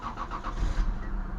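An old project car with a violent misfire cranks over and starts. A few quick rhythmic cranking pulses lead into a rough, low engine rumble close by, with no talking.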